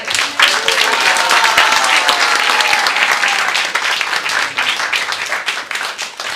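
A seated group in a temple room at a devotional retreat claps loudly and steadily, thinning toward the end, while a voice or two comes through the sound.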